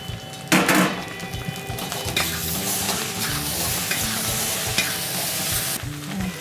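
Steady sizzling and scraping as kernels are stirred and tossed in a hot pan, a bright rattling burst near the start, no voices.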